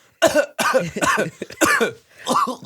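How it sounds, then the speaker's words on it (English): Several raspy, voiced coughs come in quick bursts, close and fairly loud, with short gaps between them. "I pretend to cough, and then I did cough."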